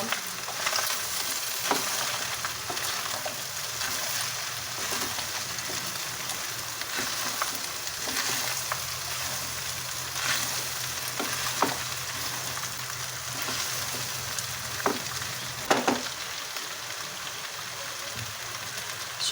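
Diced potatoes and minced meat sizzle steadily in a hot pan while a utensil stirs and scrapes through them, with occasional sharper clinks against the pan.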